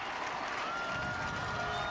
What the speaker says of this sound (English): They are on their feet trying to cheer on their Dragons, down by 21.